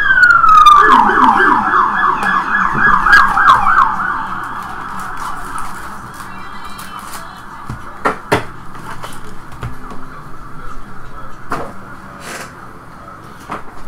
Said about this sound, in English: We get sirens for your boxes.